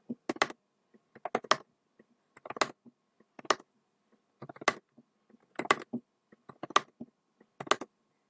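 Someone types on a computer keyboard during a fast typing game, with bursts of quick, crisp key clicks broken by short pauses and no talk.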